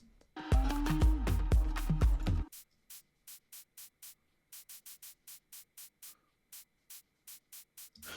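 Rhythmic bursts of white noise from a synth in an Afro house track pulse in a steady pattern after a brief loud musical phrase, each short hiss cutting in and out cleanly.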